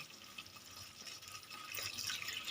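Water is poured into a pan of Bengali egg mustard curry, giving a faint, soft liquid trickle that swells a little louder near the end, with no voices.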